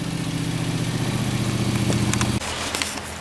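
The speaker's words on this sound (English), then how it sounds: "I hear the tractor coming back" A tractor engine drones with a steady, low, throbbing note, then cuts off abruptly partway through, leaving quieter outdoor background sound on a spring homestead garden.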